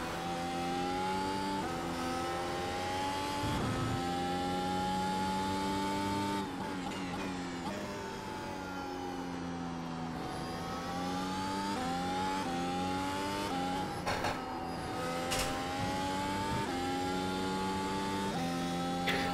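Mercedes W13 Formula 1 race car in the iRacing simulator, its engine wailing loud and continuous with steady high-pitched harmonics that climb and drop through gear changes, no talk over it.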